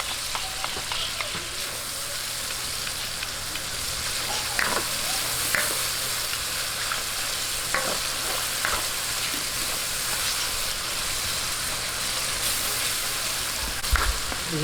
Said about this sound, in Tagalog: Maganda po, sinasama sa gisa itong tomato paste